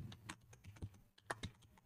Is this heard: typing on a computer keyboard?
yes